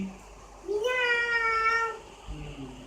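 A voice imitates a cat's meow, one drawn-out rising and falling mew lasting about a second, followed by a brief murmur of talk.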